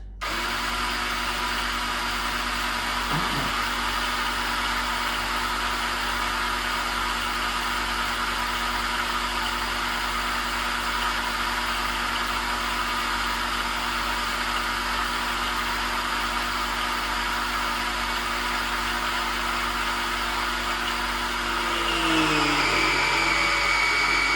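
The engine of a 1997 Harley Davidson Heritage Classic is turned over steadily to suck fuel through the oil pump, a continuous close mechanical whir with a slight shift in pitch near the end.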